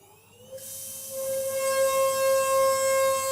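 A Datron CNC milling machine spindle at 32,000 RPM with an 8mm single flute end mill spins up into a high, steady whine, joined by loud hissing as it cuts a pocket.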